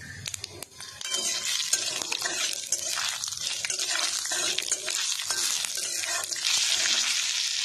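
Jujubes frying in a pan for a jujube pickle, with a busy sizzle and some stirring and clinks from close by, and no talking.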